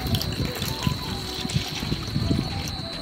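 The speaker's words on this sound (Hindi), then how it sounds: "तो सबसे पहले पानी डालेंगे" Water is poured into a pot in a home kitchen while making amla murabba, a continuous close splashing trickle lasting a few seconds.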